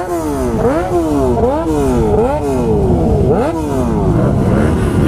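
Motorcycles at a Texas moto meet rev hard, loud and close, with repeated rising and falling engine whines over a constant rumble.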